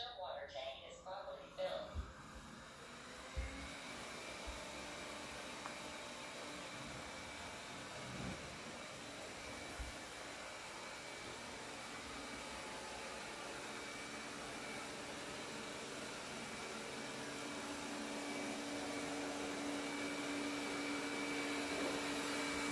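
A Roborock S6 robot vacuum mop runs in a home, starting with a few clicks and bumps, then a steady broadband whir with a faint tonal whine that grows slightly louder over about twenty seconds, with no speech.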